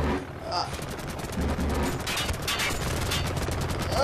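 Rapid bursts of video game gunfire crackle and rattle continuously, mixed with other game sounds, while players talk and shout excitedly over the action.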